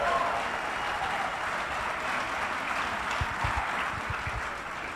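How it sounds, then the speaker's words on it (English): Applause from the audience at Big Omaha 2012, an opening session led by an emcee, a steady broadband patter of clapping that stays fairly faint and even across the whole stretch, with a few low thumps near the end. "Now give a nice big round of applause for that"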